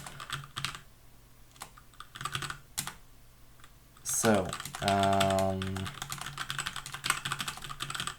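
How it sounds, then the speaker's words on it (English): Rapid keyboard clicks patter at close range, pausing briefly while a tonal computer sound plays, then resuming in quick bursts; a voice speaks briefly. "after I'm finished spamming my keyboard"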